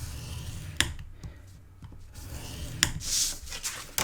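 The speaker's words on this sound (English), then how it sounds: "let's put the short side across the top of our scoreboard on the flap and score it at 1/2 inch." Paper being scored on a scoreboard at the flap, a few quiet scraping rubs and short taps with pauses between, faint and close.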